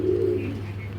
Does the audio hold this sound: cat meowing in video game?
no